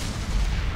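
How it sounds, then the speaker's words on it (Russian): Explosions in the video game Mass Effect 2: a continuous, loud low rumble of blasts and booming fire with no clear gaps, filling the whole short moment. "Правда, все взрывается"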